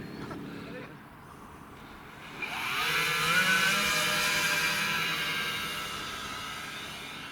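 Twin RC model Avro Lancaster bombers, Hobby King V3 "Dumbo", flying in close formation with engines at full throttle, a steady droning whine that swells in loudly after a quieter start and holds, with people talking nearby.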